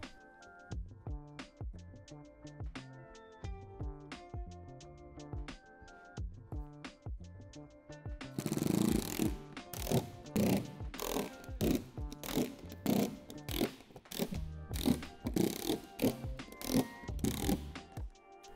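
Window panel hardware being fastened on a Lifetime 10 x 8 ft outdoor storage shed, with a run of close rhythmic ratcheting clicks that becomes louder and denser after a few seconds, no voices.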